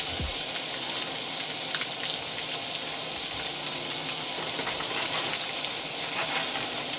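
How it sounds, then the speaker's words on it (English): Shrimp and scallops sear in a hot pan, giving a soft, steady hiss with faint crackles and a few light clinks, no voices. "Going to get a really good sear on this"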